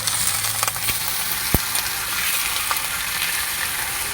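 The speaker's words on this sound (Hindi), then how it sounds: "अब इसको ये कढ़ाई में डाल दे रहे हैं। तो अच्छा से चला देता है।" Washed chicken stirred in a kadai, giving a steady wet sizzle and scraping close up, with a few light metallic taps from the spoon.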